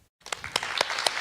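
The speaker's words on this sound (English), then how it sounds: "Let's give them a round of applause." Audience applause for staff at an artist-of-the-year event, starting abruptly after a brief silence and building into scattered claps with a few sharp, distinct hand strikes close by.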